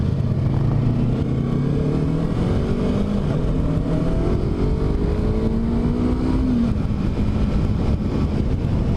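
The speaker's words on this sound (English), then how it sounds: "engine braking in first gear is pretty good." A Yamaha R3 motorcycle engine braking in first gear, a steady close-up engine drone with wavering falling pitch under constant wind rush, with no talking.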